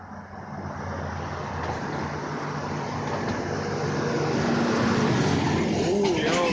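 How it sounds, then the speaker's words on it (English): A truck pulling away from a green light on a city street, a broad low engine rumble swelling steadily louder as it accelerates, with traffic noise around it. "that sound of that truck takeoff is beautiful"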